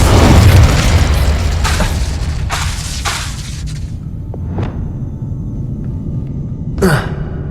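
An Incendio fire spell cast in Hogwarts Legacy: a loud, roaring burst of fire that swells and then fades over several seconds, with a sharp magical crackle near the end and no talking.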